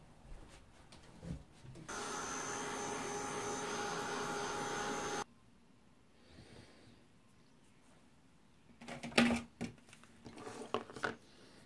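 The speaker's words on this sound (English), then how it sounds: "that's going to be just dried off with my heat tool before I carry on." A heat tool runs as a steady broadband whoosh for about three seconds while drying glued paper for a mixed media project, then cuts off, leaving quiet handling knocks and rustles.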